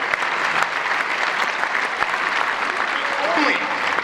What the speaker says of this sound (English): Folks, give them a round of applause.